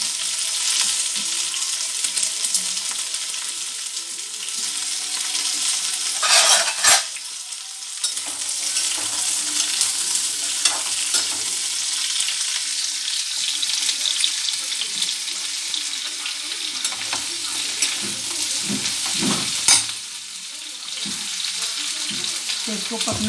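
Potato halwa cooking in a pan, a continuous close sizzle and frying hiss with occasional scraping and stirring clatter, steady and fairly loud throughout.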